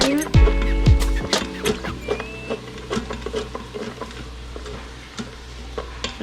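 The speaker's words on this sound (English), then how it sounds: "I'm going to give this a little stir" Oxtails with onions being stirred while sautéing in an Instant Pot, a utensil scraping and clacking against the pot bottom in quick, irregular strokes over a faint sizzle, heard up close.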